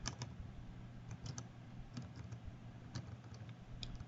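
Keys clack on a computer keyboard in quiet, irregular bursts of soft clicks over a low background hum, close by but faint.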